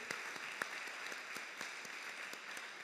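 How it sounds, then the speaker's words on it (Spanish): A church congregation gives quiet applause: sparse, fairly distant clapping with a few sharper claps standing out, steady and low in level across the short stretch. "damos un aplauso fuerte a Dios y una bienvenida cálida"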